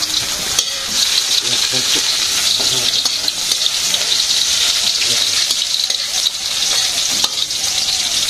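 Khichuri cooking in a pot in a village kitchen, with steady loud frying sizzle and scraping stirring throughout, close by, with some running water and faint voices underneath.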